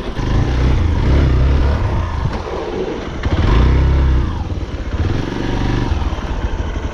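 A Hero XPulse motorcycle rides off-road over a rough road, its engine loud and close, rising and falling in repeated revving surges with rattling clatter from the bike.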